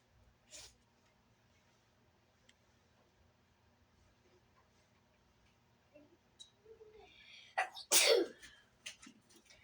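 A single loud, sharp sneeze bursts out near the end of an otherwise quiet stretch, with a faint earlier breathy sound.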